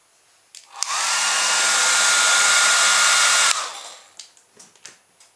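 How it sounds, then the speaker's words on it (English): A hair dryer blows with a loud, steady whoosh and whine for about three seconds, pushing a plastic bottle car along, then cuts off, followed by a few light clicks and taps. "we just blow it along using my hairdryer"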